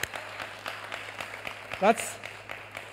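A church congregation claps in a quick, steady rhythm of sharp claps at moderate distance, with a voice speaking briefly over it.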